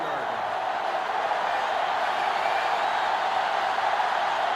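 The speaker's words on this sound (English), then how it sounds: "This sellout crowd is really making a difference now as these guys can't even call the play" Stadium crowd noise in NCAA Football 2005 on GameCube, a steady sellout roar filling the background without a break, even and sustained with no distinct cheers rising out of it.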